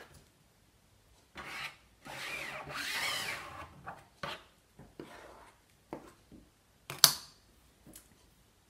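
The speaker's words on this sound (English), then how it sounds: "I'll just use my squeegee and get some of this excess paint." A rubber squeegee scrapes excess screen printing ink off a screen in a series of rough, rasping strokes of varying length, some long and sweeping, others short and clipped, with quiet gaps between.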